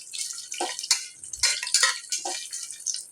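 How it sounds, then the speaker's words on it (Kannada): Tomato bath ingredients with kasuri methi being stirred in a pan, giving repeated close scraping and clinking of a utensil against the pan in short bursts, with no talking. "ಹಾಕ್ಕೊಂಡಾದ್ಮೇಲೆ ಒಂದ್ಸಲ ಇದನ್ನ ಕೈ ಆಡಿಸ್ಬೇಕು"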